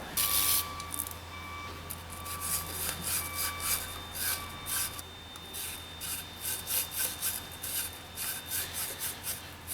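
A removed coolant elbow from a GM 3800 engine being scrubbed clean, a repeated close rubbing and rasping stroke in an uneven rhythm, fairly quiet, with no talking.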